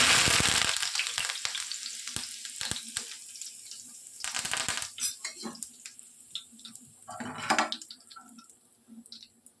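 Curry leaves drop into hot oil left from frying peanuts, for an Andhra-style lady finger fry. A loud, crackling sizzle bursts at the start, then settles into lighter spitting and popping with occasional clinks of a spoon against the pan.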